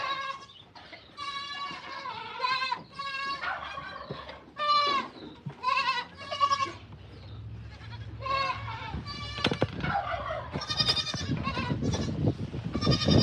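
Goats bleating at a farm, several loud wavering calls in close succession from nearby animals, followed by rustling and shuffling noises as they move about.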